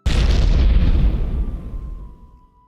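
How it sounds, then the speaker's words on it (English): A flashbang grenade goes off in a video game: a loud, close blast that decays over about two seconds, leaving a thin, steady high ringing tone that lingers alone. "I guess I could flashbang you guys."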